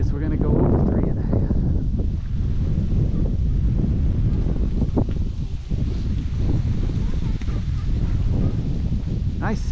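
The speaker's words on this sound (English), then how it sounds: "Wind chill probably 58. Windy." Strong wind gusts buffet the microphone on a sunny, windy day during an outdoor walk past houses, a steady loud roar for the whole stretch, with a few faint goose-like honks in the distance.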